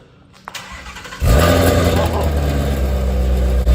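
A starter cranks briefly, then the 5.2 V8 of a rolled-over Shelby GT350 Mustang fires up loudly and settles into a deep, rumbling idle close by.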